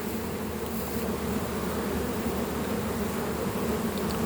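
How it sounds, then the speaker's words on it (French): Honeybees returning to the hive with pollen drone around it, a steady, close buzzing hum of many insects with no voices. "des abeilles qui rentrent avec du pollen sur les pattes"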